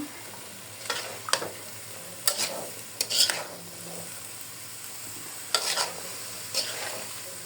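Potatoes and onion stalks being stirred and sautéed in a pan, with a few short bursts of spatula scraping and sizzle spaced apart over a low, quiet background.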